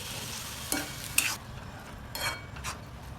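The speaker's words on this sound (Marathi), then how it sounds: "हरभरे टाकून द्यायच्यामध्ये" Cooked chickpeas tipped into a hot pan with turmeric for a Maharashtrian chana usal, a few quick spoon scrapes and stirring strokes over a low background sizzle, no voices.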